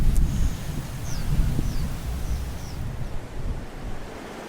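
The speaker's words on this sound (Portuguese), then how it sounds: "uma coisa que é uma característica daqui, que é esse vento" A strong, steady wind rushes across an open hilltop on the cuesta near Botucatu, a loud broadband roar that eases slightly toward the end, with a few faint chirps high above.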